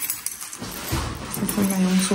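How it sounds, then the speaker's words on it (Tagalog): A set of keys jangles briefly in a short metallic rattle, close to the mic, under and around someone speaking. "Ito na yung susi ko."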